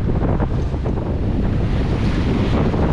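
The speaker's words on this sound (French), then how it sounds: "Et vous avez vu, le vent s'est relevé." Strong wind sweeps over the open sea aboard a sailboat bound for Portugal, a loud, steady rushing roar with buffeting gusts and the wash of waves, constant throughout with no voices.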